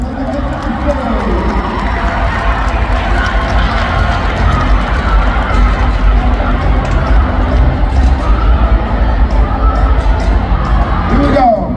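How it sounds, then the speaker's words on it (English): Crowd roaring and cheering in an arena at the NCA Nationals cheer competition in Dallas, a dense, loud, continuous wash of shouts and whoops with no break, sounding more like yelling than clapping. "Everybody give them a round of applause and they get to the stage"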